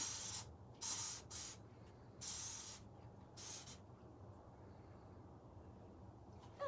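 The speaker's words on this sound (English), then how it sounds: "you take up your spray paint, and then you spray paint over the top of it" Spray paint hissing from an aerosol can onto a tumbler: four or five short, sharp spray bursts in quick succession, close and fairly faint, then quiet.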